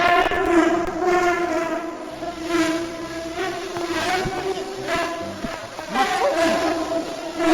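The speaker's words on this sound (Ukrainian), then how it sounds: "Якісь бджоли?" Continuous buzzing of bees in the Roblox game Dusty Trip, a steady droning hum with wavering pitch, fairly loud and with no voices.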